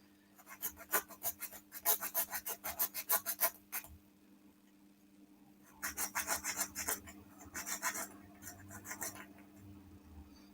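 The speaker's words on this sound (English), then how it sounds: "this isn't really the right file for this sort of thing, but it will do for now" A hand file rasps back and forth over a small part of a Titanic scale model, strokes coming in quick rhythmic bursts with short pauses between them, close and fairly quiet.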